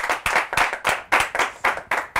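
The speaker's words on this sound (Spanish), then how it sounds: "Fuerte aplauso, weón, a toda la producción que está acá" Live clapping from a crowd greeting the production crew at a street-march interview, sharp rhythmic bursts of hands repeating about twice per second, close and loud with no talk over it.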